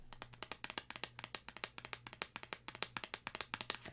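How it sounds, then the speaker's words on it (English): One person claps their hands quickly and steadily, the sharp, evenly spaced claps fairly faint but close and alone, with no talking. "That's me applauding"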